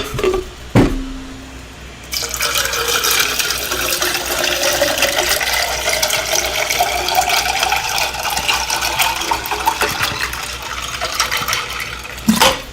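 Water poured steadily into a glass or container, a continuous splashing, rushing stream lasting about ten seconds after a brief knock, fairly close and loud with no talk.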